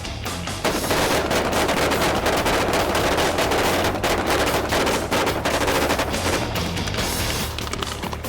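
Rapid, dense automatic gunfire on a Breaking Bad film set, rounds fired into the ground to mimic ricochets, a loud, sustained barrage of overlapping shots with no pause.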